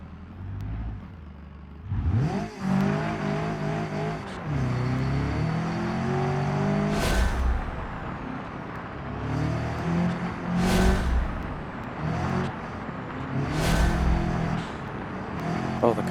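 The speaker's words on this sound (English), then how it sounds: "Oh, the car does so much better through this section now." A rally car built from a roller in the BeamNG driving game revs and accelerates through a section, engine pitch rising and falling with gear changes and bursts of wheel or gravel noise, loud and continuous.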